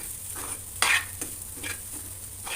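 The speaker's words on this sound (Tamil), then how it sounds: "எல்லா பக்கமும் மிக்ஸ் ஆகுற மாதிரி நல்லா மசிச்சுக்கலாம்" Vegetable cutlet mixture mashed and mixed in a pan, with soft scraping and squelching strokes at an uneven pace and one louder clatter, close and alone without talk.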